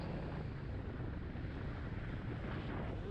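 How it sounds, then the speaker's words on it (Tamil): Wind blowing hard on an open roadside in the Ramanathapuram district near Thoothukudi, a steady loud rush of broadband noise buffeting the microphone throughout, with no voices. "காத்து வேற அடிக்குது."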